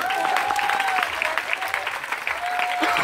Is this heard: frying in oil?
no